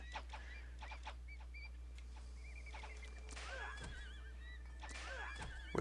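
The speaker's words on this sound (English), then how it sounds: "We're losing some horses by the sounds of it." Horses whinny in the strategy game Pharaoh: Cleopatra, several wavering neighs rising over a steady low hum, fairly faint with a few scattered clicks and calls between them.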